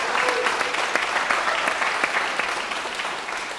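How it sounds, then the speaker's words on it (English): A round of audience applause at a violin master class, moderately loud and continuous, tapering slightly toward the end. "Big round of applause."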